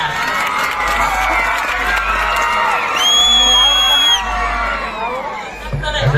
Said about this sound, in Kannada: ಒಂದು ಜೋರ್ ಚಪ್ಪಾಳೆ ಬರಲಿ ನಮ್ಮ ತಂಡಕ್ಕೆ